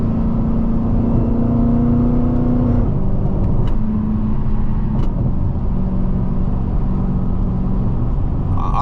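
An 800 HP Hellcat in track mode pulls hard with a loud, close engine roar and drone, the pitch holding high and then shifting as it shifts gears partway through.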